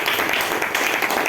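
A congregation at a church gathering claps in a brief, dense, continuous burst of many hands, loud and steady throughout.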